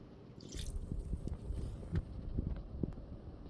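Hands massage goose meat in jerky marinade, making soft, wet squishing and squelching sounds in close, irregular bursts.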